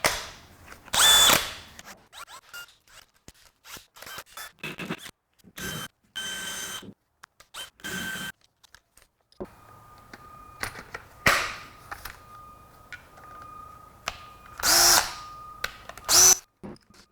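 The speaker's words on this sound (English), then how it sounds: "So this is a 20-volt angle drill, and this is a 20-volt hammer drill." A 20-volt cordless hammer drill whirs in repeated short bursts, starting and stopping with clicks and handling noise between, close and fairly loud.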